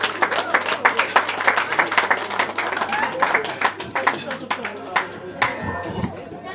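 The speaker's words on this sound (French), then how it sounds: "Nous acclamons et nous demandons à la famille de reprendre place." Wedding guests applaud the family at a reception. Dense, lively clapping runs almost throughout, mixed with crowd noise, and tapers into a few scattered claps at the end.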